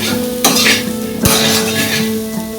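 Salted papaya pieces frying in a pan, a loud close sizzle with two sharp clanks of a metal spoon against the pan and light stirring scrapes.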